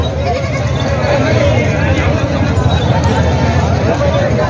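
Goats bleat amid a busy goat market din in Vasmat, their calls blending with crowd chatter and shuffling in a constant, fairly loud backdrop.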